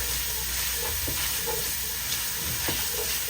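Garlic sizzling and being stirred in a pot while making a Guinness beef stew, a soft steady frying hiss with faint scrapes and small spatters, close and fairly quiet, no talking.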